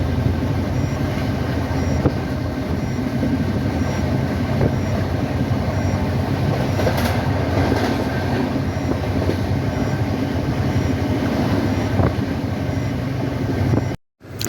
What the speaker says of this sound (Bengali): এখন আমাদের ট্রেন 120-121 কিলোমিটার পার আওয়ার স্পিডে যাচ্ছে।